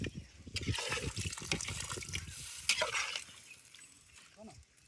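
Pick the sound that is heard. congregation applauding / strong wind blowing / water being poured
water being poured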